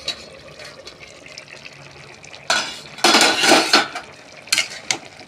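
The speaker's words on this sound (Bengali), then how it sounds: "ঢাকনা খুলে দিই" A cooking pot of aloo potol dom (potato and pointed gourd curry) is uncovered after simmering, with quiet kitchen sounds giving way to sharp metallic lid clanks and clattering, followed by a few more knocks.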